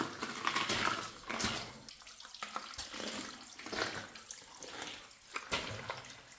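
Water trickles and splashes inside a flooded underground mine working off a gangway, faint uneven sloshing with small bursts and drips, no voices.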